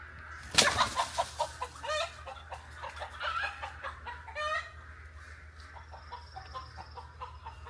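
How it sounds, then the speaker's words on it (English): Chickens cluck and squawk in a flurry as someone tries to catch them, with a sharp flapping burst early on followed by irregular clucks that settle into quieter calls. "I guess it's a good thing I don't make a living by catching chickens"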